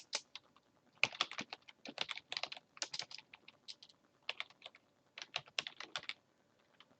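Someone types on a computer keyboard in short bursts of quick, light key clicks with brief pauses, close and quiet.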